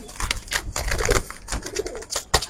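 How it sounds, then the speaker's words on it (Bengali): A female Giribaz pigeon in a loft coos in repeated throaty bursts, close and fairly loud, with faint rustling between calls. "এটা মাদি কবুতর।"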